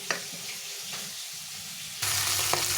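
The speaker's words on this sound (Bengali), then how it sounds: "মাছটা ভাজা হচ্ছে" Fish pieces fry in oil in a pan for a home-style fish curry, a soft continuous sizzle that swells louder partway through, with faint clicks.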